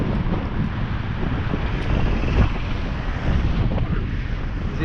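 Strong headwind buffeting a helmet camera on a cyclist riding a cycleway, a loud, constant rushing roar with gusty low rumble throughout.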